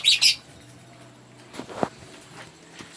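Small aviary birds in a home aviary give a couple of bright, high chirps, then scattered soft calls and light rustling and fluttering sounds at close range, with no talking.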